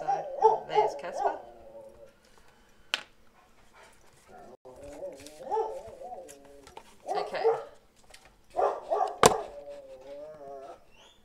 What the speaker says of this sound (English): Casper was barking at the birds.